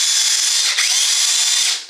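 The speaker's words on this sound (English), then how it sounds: "it runs the drill just like it was a regular drill running on the same DeWalt battery" A DeWalt cordless drill runs on a Kobalt 24V battery through an adapter, a loud high-pitched motor whine held steadily, briefly dipping midway as if loaded, then winding down at the end.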